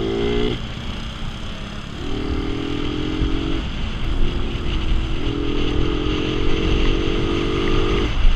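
A 2013 Motorstar Z150 150cc motorcycle engine drones under riding wind noise, with repeated rising revs as it shifts through gears, steady and fairly close.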